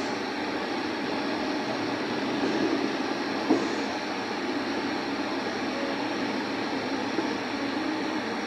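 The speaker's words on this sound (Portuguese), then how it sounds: "o trem passando aí" A train passes along a railway line beside track-duplication works in Bahia, Brazil, giving a steady, broad rumble and rush that holds at an even level throughout, with one brief clank partway through.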